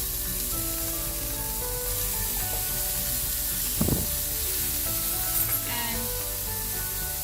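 Burger patties and caramelized onions sizzle steadily in a pan, a constant hissing fry with a brief spatula scrape near the middle; one word of speech is heard.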